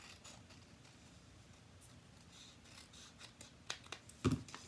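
Scissors cutting paper around the flap of a handmade card envelope, faint snipping and crinkling that builds to a few louder, sharper cuts near the end, with no talking.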